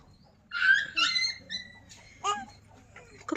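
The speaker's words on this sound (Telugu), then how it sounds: "కుక్క పిల్ల అరిసిందా? ఎలా అరిసింది?" A puppy whimpers and yips in several short, high, clear bursts, close by, with quiet pauses between the cries.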